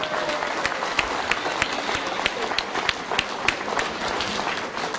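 An audience at a San Giorgio La Molara club's 40th birthday gathering gives a steady, dense round of applause, with many hands clapping continuously in a room.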